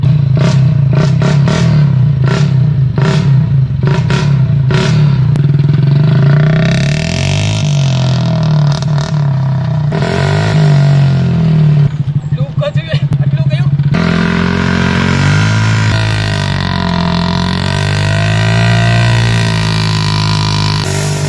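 Engine of a homemade motorized drift trike runs loud and close, revving and sputtering with clattering bursts, its pitch rising and falling throughout while people talk over it.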